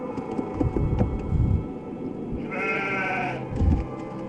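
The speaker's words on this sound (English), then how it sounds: "It's a sheep!" Sheep bleating in the video game Nancy Drew: The Haunting of Castle Malloy, a single drawn-out nasal bleat near the middle over a continuous ambient game background.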